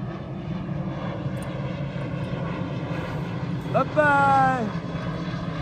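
An airplane passes overhead away from any airport, a steady low engine drone running beneath close conversation, with a brief rising tonal swell partway through.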